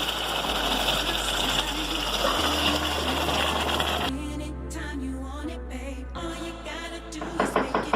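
Water poured from close by into rice frying in a pot, a loud steady gushing wash for about four seconds, then fainter bubbling and sizzling as the pour stops.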